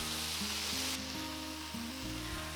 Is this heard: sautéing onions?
yes